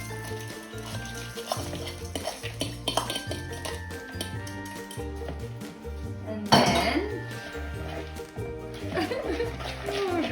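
Toasted pecans coated in caramel syrup are stirred into a banana cake mixture, with soft scraping and clinks of utensil on bowl, and a louder clatter partway through. Low talk and a little laughter run underneath.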